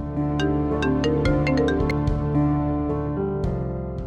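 A melodic phone ringtone plays steadily, a bright repeating tune with sustained tones and sharp plucked notes, loud and close with no talking.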